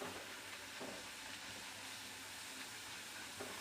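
Potato chips frying in hot oil give off a steady, quiet, broadband sizzle and hiss that holds evenly throughout, with no talking.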